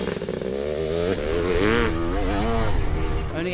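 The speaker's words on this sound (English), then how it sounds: "The bike is sounding sweet out there," Kawasaki 500 two-stroke racing motorcycle at speed on a track, its engine note rising and falling steadily through gear changes, loud and close throughout with a rasping, buzzy tone.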